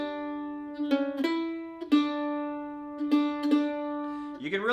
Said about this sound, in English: you can also play without tremolo if you want to practice it, so it sounds like this.